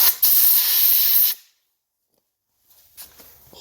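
Harbor Freight portable sand blaster gun spraying baking soda: a loud, steady, close hiss of air blast lasting about a second before cutting off, then silence and faint handling noises.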